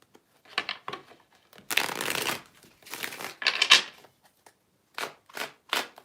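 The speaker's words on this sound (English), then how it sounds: "one more shuffle." Tarot cards shuffled by hand in short riffling bursts, several quick rustling flurries separated by pauses, close and fairly quiet with no talking.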